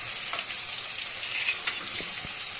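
Ridge gourd pieces going into a pan of half-fried potatoes, a soft continuous sizzle of hot oil with a few light clicks and taps of pieces dropping in, close and quiet, no voices.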